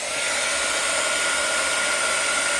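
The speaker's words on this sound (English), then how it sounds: "if you want these to dry faster, you can just grab your heat gun" Steady, loud whooshing blow of a heat gun drying texture paste stenciled on paper tags, unbroken and close for the whole stretch, no talking.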